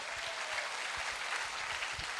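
An audience at an empowerment event applauds, a dense, steady wash of many hands clapping at once, filling the whole moment with no voices over it.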